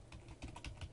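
Quick bursts of keystrokes on a computer keyboard, soft and fairly faint, an irregular run of clicks with no voices over them.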